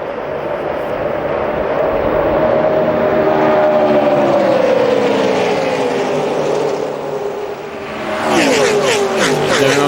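NASCAR Nextel Cup stock cars roar past at Daytona during the 2007 Budweiser Shootout, a loud, sustained engine drone that shifts pitch as the cars pass, with a fresh surge of engine noise near the end.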